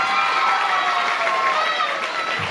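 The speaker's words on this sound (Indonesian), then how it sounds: "Tepuk tangan dong buat kalian semua." Students at a school literary seminar and poetry anthology launch clap and cheer together. The crowd noise is loud and continuous, with high, shouting voices mixed into the applause.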